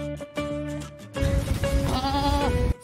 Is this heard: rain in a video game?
no